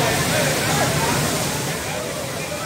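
River water rushes at Charco Escondido in rural Jamundí, Valle del Cauca, Colombia, making a loud, continuous broadband roar close by, with faint voices mixed in.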